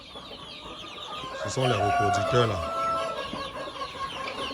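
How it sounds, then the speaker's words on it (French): Breeding turkeys on a farm give a short burst of loud gobbling calls near the middle, close by, with someone speaking French over the birds. "Donc, sur le site aussi, il y a les dindons."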